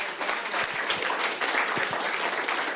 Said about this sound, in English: a round of applause for the dialogue